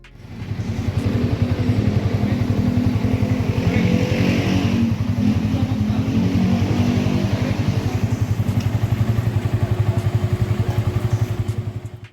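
A Yamaha XSR155 motorcycle engine runs steadily throughout a test ride, a loud, continuous buzzing drone with a throbbing low pulse and rushing wind, no talking.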